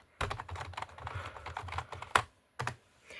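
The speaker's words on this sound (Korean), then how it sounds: "제 타자 실력을 보여드리겠습니다" Quick bursts of keystrokes clatter on a computer keyboard, uneven taps clustered together with a couple of short pauses, close and fairly loud, no talking.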